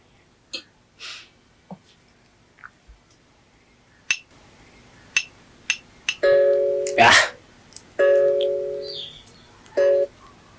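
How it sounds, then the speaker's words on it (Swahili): A mobile phone rings with repeated electronic tone bursts in a steady on-off pattern, loud and close, mixed with brief clicks and scattered voices. "Usipokee simu?"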